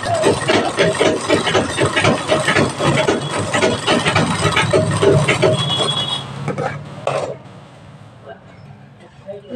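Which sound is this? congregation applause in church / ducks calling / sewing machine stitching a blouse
sewing machine stitching a blouse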